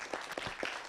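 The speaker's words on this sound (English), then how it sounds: "please give a round of applause to Esther Kagunya." Audience applause at the Nairobi Tech Week 2024 event as a speaker is welcomed, brief scattered claps at moderate distance with no voices over it.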